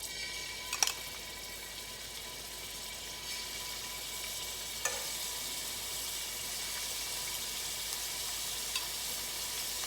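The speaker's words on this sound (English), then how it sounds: "I'm gonna saute the shrimp." Shrimp sauté in olive oil in a pan, a steady, close sizzle that runs throughout with a few faint clinks of utensils.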